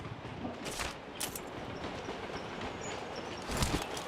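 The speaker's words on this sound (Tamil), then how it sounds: "The train is now approaching." A train approaches with a steady rumble and rolling clatter, broken by a few sharp squealing bursts from the wheels that swell near the end.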